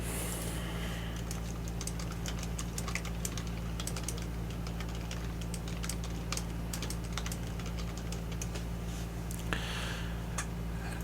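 Quick, soft keystrokes patter on a computer keyboard as someone types into a chat, forming a light irregular clatter over a steady low hum.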